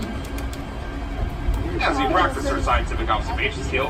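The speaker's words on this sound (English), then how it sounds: "But the noise you hear coming from behind us right now is just traffic on the Bronx River Parkway." Traffic on the Bronx River Parkway, heard from the Bronx Zoo's Wild Asia Monorail as a continuous low rumbling roar under someone talking close by.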